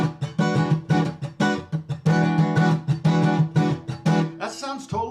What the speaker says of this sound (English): so I'll do a triple hit on 1, and then on the and of 2, I'll do a double hit